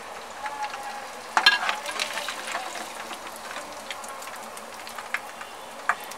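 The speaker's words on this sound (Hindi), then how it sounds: "सेम ऐसे ही हम अपने सारी मटन की चापे फ्राई कर लेंगे।" Mutton chops frying in hot oil give a steady, low sizzle throughout, with a few brief louder pops and crackles near the start and end, heard alone at close range.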